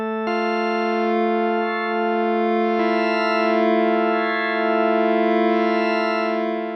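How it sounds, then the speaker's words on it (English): Sustained organ-like chord from a Chord Morph wavetable synth, loud and harmonically rich, holding steady with a slight timbral shift partway through as the wavetable position changes. "Kind of has an organ-like sound, this Chord Morph Wavetable."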